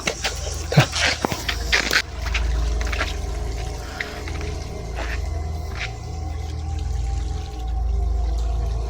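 Water gushes and splashes continuously from a broken pipe on a mountain, with a steady rushing sound, after a few sharp knocks and clatters at the start.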